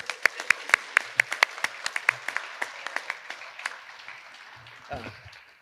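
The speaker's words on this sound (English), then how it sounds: "Please join me again in giving him a warm round of applause." Scattered applause from a small crowd, a few distinct claps that taper off, with some low talk underneath.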